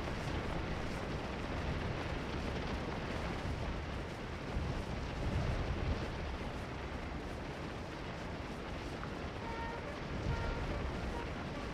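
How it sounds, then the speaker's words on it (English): Distant musketry and mid-air artillery bursts from a large Civil War battle at Antietam's East Woods in the Scourge of War strategy game, a dense continuous roar of rolling gunfire with scattered swelling booms, steady throughout. "Just this massive cluster of combat and death and musketry, and again, just the scale. You've got the mid-air artillery bursts."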